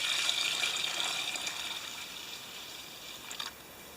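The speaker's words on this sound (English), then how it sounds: "Let's pour some into here." Fuel pours from the tank of a 50-year-old HAHN tiller with a Briggs engine into a container, making a steady close liquid splashing and trickling that slowly fades over a few seconds.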